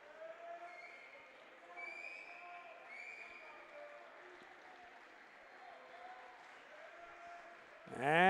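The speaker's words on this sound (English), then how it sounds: "everybody is cheering them on to the very last second" A crowd cheers at a high school boys swim meet in an indoor pool, a steady wash of voices and shouts under a commentator's talk, swelling into a loud burst at the very end.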